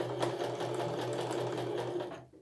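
A sewing machine stitches a fabric seam, starting with a backstitch, running steadily with a humming motor and fast needle chatter, close and continuous before stopping abruptly.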